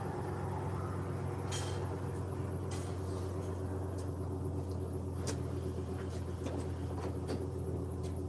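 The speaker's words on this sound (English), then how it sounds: "Cranking the plow truck up." A plow truck engine idles as a low, continuous rumble with a steady mechanical drone, fairly close and alone without talk.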